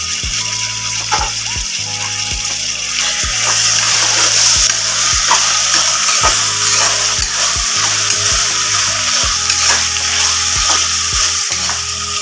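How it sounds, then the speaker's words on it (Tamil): Steady sizzling of vegetables, including potato, frying in a pan, with a rhythmic low mechanical thumping and occasional clinks of stirring throughout. "காயெல்லாம் ஒரு வதக்கு வதக்கியாச்சு"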